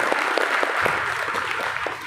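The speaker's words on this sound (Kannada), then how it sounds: "ಅದ್ಭುತವಾಗಿರ್ತಕ್ಕಂಥ ಚಪ್ಪಾಳೆ ಪಡ್ಕೊಂಡಿದ್ದಾವಲ್ಲ, ಅವ್ರಿಗೆ ಪ್ರೋತ್ಸಾಹ ಕೊಡೋದು" Audience at a World Tuberculosis Day event in Koppal, India, breaking into steady, dense applause that fills the whole moment at moderate loudness, with a faint voice underneath.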